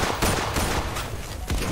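Shotgun blasts in a first-person shooter game, a few loud booming shots spaced apart over continuous game noise, with no voices heard.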